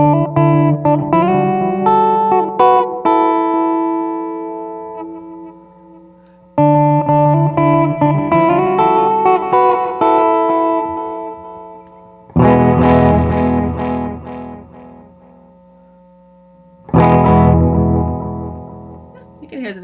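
Electric guitar through a Walrus Audio Mako D1 delay pedal, with its tone control low-pass filtering the repeats: phrases of chords and notes played loudly, trailing echoes, and a pause before each of the next three passages.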